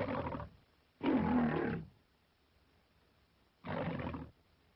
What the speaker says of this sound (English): One has Jackie's common roar.